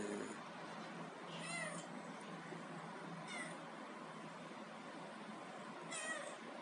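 Two cats, one of them yellow, meow repeatedly: about three drawn-out calls spaced a few seconds apart, over a steady background hiss, with no talking.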